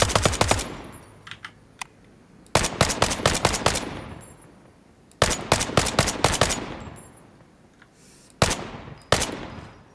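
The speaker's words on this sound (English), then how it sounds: "So you got this firing range. Come here and just shoot your guns." Rapid automatic gunfire at a firing range in Incursion Red River, several loud close bursts of fast shots separated by short pauses, with no voices over them.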